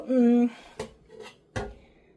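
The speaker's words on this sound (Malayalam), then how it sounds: "ഇനി ഞാൻ സിങ്കിലോട്ട് ഈ പ്രഷർ കുക്കർ കഴുകാൻ പോകുന്ന രംഗമാണ് കാണുന്നത് ഇതിലോട്ട് വെച്ചു" A metal pressure cooker set down into a kitchen sink, giving three separate clanks over about a second, heard close after a short bit of talk.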